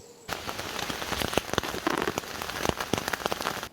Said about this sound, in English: here's a little sound clip of the rain that was coming down